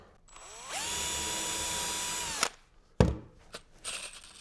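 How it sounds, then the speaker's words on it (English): A power drill whirs steadily at high speed for about two seconds, pre-drilling wood, then stops; a sharp clunk and some handling noises follow. "I'm going to pre-drill"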